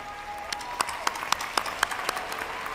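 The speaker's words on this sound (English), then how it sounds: "Please give Bradis Lopez a round of applause." Applause from the crowd at a high school graduation ceremony, sounding distant and diffuse over a steady room hum, with a few sharper individual claps standing out at a loose rhythm.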